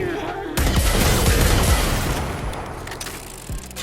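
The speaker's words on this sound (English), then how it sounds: "As you can see, that was 9 shots." Kuva Ogris weapon fire in the game Warframe, a dense roaring barrage of blasts and explosions sustained for about three seconds before tapering off.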